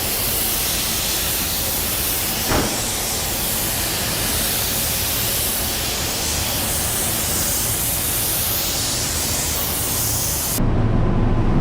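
Spray gun laying down paint on a car, a loud, steady close hiss of atomized spray running continuously, with a brief knock partway through before it cuts off near the end.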